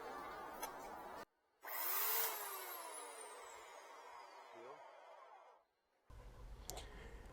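Oregon CS 1500 self-sharpening electric chainsaw cutting wood on a deck, the motor whining loudly and steadily up close for several seconds between abrupt stops, with the chain halting instantly.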